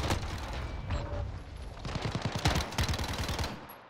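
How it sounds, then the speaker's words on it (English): Mini Uzi submachine gun firing in a first-person shooter video game, rapid fully automatic bursts of quick shots over a busy background, with a longer, louder stream toward the end. "The mini Uzi is such a good pre-aim gun,"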